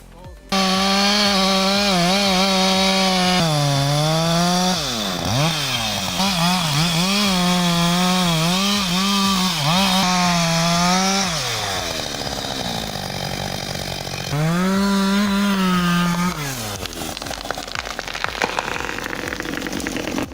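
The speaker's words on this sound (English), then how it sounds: "The Husqvarna 562 XP sounds every bit as strong as advertised. Plenty of power in the saw." Husqvarna 562 XP chainsaw cutting through a tree trunk under a foot wide, loud and close, its engine wailing steadily with pitch dips as it bogs in the wood, then easing off near the end.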